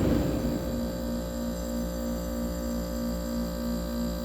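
2002 Friedrich Quietmaster window air conditioner running on low cool, a steady close hum with a faint pulsing tone and no other sounds.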